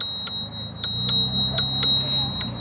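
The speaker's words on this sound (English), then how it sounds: "And a cute little bell." A small handlebar bell on an AnyHill UM-1 electric scooter dings several times in quick, irregular strikes, bright and close, each ring short with a faint lingering tone.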